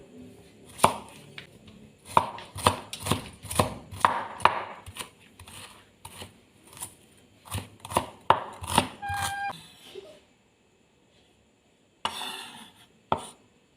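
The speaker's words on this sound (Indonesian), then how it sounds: "Kita rajang bawang merah." A knife chops shallots on a board in a quick run of sharp close taps, a brief pause, then a few more cuts, with no talking.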